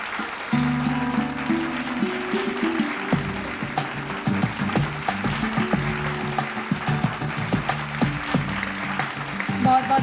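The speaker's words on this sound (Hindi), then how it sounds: "जोरदार तालियों से स्वागत करें।" An audience breaks into sustained, energetic applause to welcome an honoree at an awards ceremony in Bihar, with a recorded music fanfare playing over the clapping throughout.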